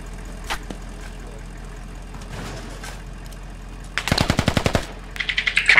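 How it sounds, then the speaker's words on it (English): Rapid bursts of automatic AK rifle fire ring out close by in a squad-based military video game, two rhythmic volleys of sharp cracks following a few scattered distant shots and a quiet stretch. "Hey, that's an AK close."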